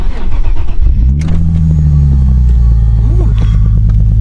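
Nissan 370Z fitted with an ISR Y-pipe and single exit exhaust revs up: a loud, deep, close engine rumble rises into a sustained throaty drone and then eases back. No speech.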